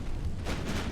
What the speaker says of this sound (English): I think that was a torpedo took out that destroyer